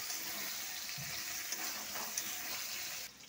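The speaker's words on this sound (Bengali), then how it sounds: "এটা তো ভাজছি" Gathi kochu (taro) frying in oil tempered with black cumin, a steady close hiss and sizzle with a few soft stirring scrapes and light clicks, no voices.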